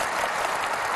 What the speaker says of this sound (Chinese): 还不鼓掌等啥呢？